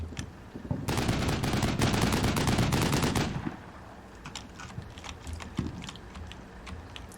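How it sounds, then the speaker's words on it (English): Sustained automatic weapons fire in the tactical war game Combat Mission Shock Force 2, a dense rattling burst of machine-gun shots lasting a few seconds, then trailing off into scattered distant single shots and faint battlefield ambience. "There we go, we're firing every so often."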